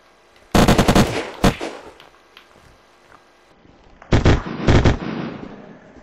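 Rapid bursts of paintball gun fire in the video game Unturned come in two clusters: a loud rattling volley near the start and another a few seconds later. Quieter ambience fills the gaps.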